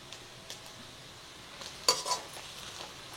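Onions and fennel seeds fry in a pan for a village-style mushroom dish, giving a faint, steady sizzle. A single sharp clink of stirring cuts through near the middle.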